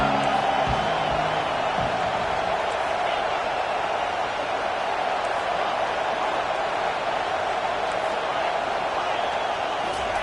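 A big football stadium crowd at a college game roars steadily through a crucial third-down defensive stand, a dense, loud wash of cheering that holds without pause.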